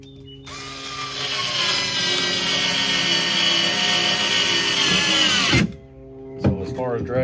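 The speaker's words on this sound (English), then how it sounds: "So as far as driving the screw, Bauer's got it hands down." A Bauer 4V cordless screwdriver drives a screw in one steady, loud whirring run of about five seconds, then stops abruptly with a brief clunk and a short follow-up burst.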